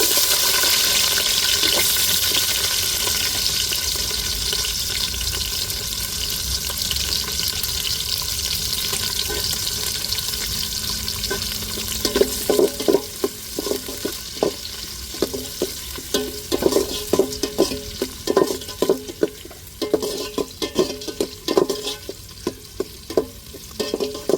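Onions frying in a pan: a loud, steady close-up sizzle for the first half, then stirring joins in as rapid, rhythmic scraping strokes over the continuing hiss, with no voices.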